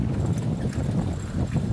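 Steady clip-clop of a half-bred trotting horse's hooves in harness racing, an even rhythm, close and continuous with a low rumbling background.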